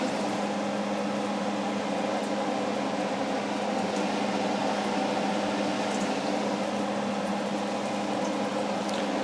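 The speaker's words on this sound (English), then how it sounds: "we're going to fry them until they are golden brown" Beignet dough frying in hot oil, a steady, fairly loud bubbling hiss with a low hum underneath, constant and unbroken for the whole stretch.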